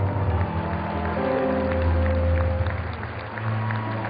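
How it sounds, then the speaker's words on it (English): Sustained applause from a dinner audience at a correspondents' association event fills the room, a steady dense clatter of clapping that swells slightly midway and continues throughout. "Give her a big round of applause."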